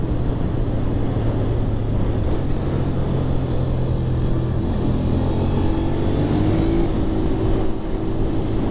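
A Honda VTR 250 motorcycle engine under way on a ride to Kinglake, a steady loud rumble with some wind noise and a slight rise in pitch toward the end.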